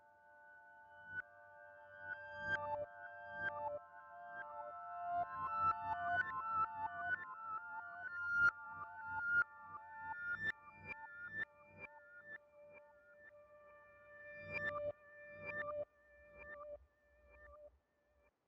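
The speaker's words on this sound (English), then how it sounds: "Another very nice sound for reversing is a piano." Reversed piano notes with tape delay swell slowly into sustained tones that stack and cut off abruptly, giving a soft, ghostly melodic texture. Faint percussive ticks sit underneath, and the sound stays quiet and alone, with no voices.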